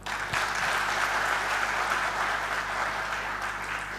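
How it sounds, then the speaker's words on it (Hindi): An audience at a company anniversary event in Patna claps for their leaders, a dense continuous round of applause from many people over a low steady hum, loud and even throughout. "अपने अपने लीडर्स के लिए एक ताली हो जाए"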